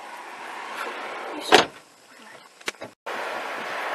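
Someone gets into a car: a sharp loud clunk of the car door closing, then a few smaller knocks and a brief muffled gap before steady interior road noise returns.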